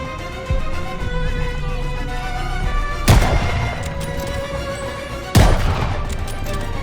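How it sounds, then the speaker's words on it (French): Two sharp, loud gunfire bursts ring out in Call of Duty Vanguard, shots coming from above, over a steady battlefield ambience with no voices. "On essuie des tirs d'en haut!"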